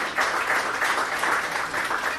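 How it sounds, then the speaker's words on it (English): Audience at a sports league draft and season opening meeting applauds its sponsor Sport Corner, a steady wash of clapping from many hands filling the room without pause. "Another round of applause for Sport Corner"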